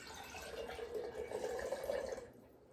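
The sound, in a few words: ham stock being poured into another container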